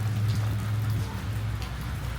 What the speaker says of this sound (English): Because the rain's blowing in.